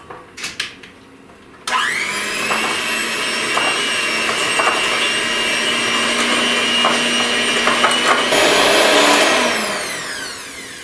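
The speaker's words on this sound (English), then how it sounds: "Now I'm going to mix this up till it's combined very well." An electric hand mixer with beaters whirs into chocolate peanut butter bundt cake batter. It starts abruptly after a few knocks, runs loud and steady with a high whine, then winds down at the end.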